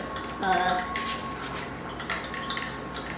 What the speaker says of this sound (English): Now, for a whisk, I actually found that a fork works pretty good.